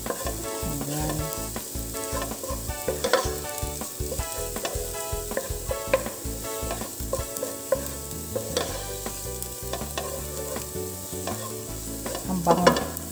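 Garlic and onion sizzle steadily in hot vegetable oil for spaghetti sauce, with repeated close scraping and stirring clatters of a utensil against the pan throughout.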